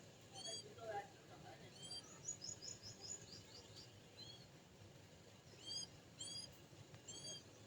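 Faint, high chirps come in short bursts from bird chicks in a nest in a mango tree, scattered across a quiet outdoor background with low rustling and no talk.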